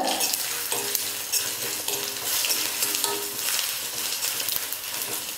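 Peeled-on garlic cloves and asafoetida fry in hot oil in a pan, giving a loud, continuous sizzle close up, with stirring scrapes and light clinks throughout and no talking.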